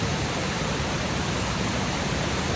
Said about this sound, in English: Way upstream, you can see upstream where there's a little waterfall out there.